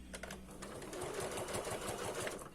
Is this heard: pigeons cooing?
no